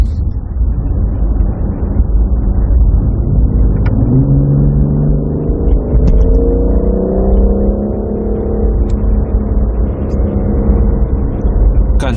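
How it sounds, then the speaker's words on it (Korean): A BMW M760Li xDrive engine hums steadily, then its pitch rises smoothly as the sedan accelerates for a few seconds, restrained rather than loud, before settling back. "짧은 구간 가속을 해봤는데 소리가 잘 들어갔을지 모르겠어요."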